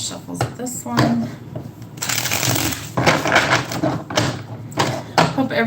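Tarot cards being shuffled in several quick riffling bursts, close to the microphone, with a person's voice speaking between and over the shuffles.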